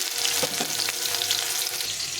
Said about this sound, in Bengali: টমেটো একটু ভাজা ভাজা করে নিতে হবে।